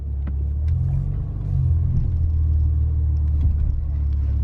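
A Maserati Ghibli's engine hums low and steady as the car rolls slowly into a service area, a deep rumble rising slightly partway through.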